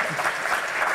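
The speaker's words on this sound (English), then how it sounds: "So let's give them a round of applause." Brief burst of audience applause at a lectureship honoring donors, steady dense clapping filling the short moment without voices.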